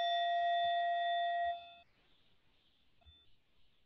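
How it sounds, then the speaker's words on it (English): A meditation timer gives a steady electronic beep tone lasting about a second and a half after its start button is pressed, then cuts off, leaving quiet room noise and one faint short blip. "I'm going to hit the start button, and we have a 10-minute, what's called a warm up on this timer."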